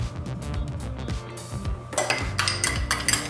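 Ricotta cheese is worked into gnocchi dough in a bowl with a utensil, producing repeated close clinks, scrapes and knocks in an irregular rhythm.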